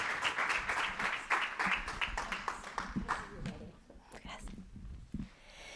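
An audience at a seminar on type 1 diabetes claps for a speaker, a few seconds of moderate, steady applause that thins out toward the end, with some murmuring voices mixed in.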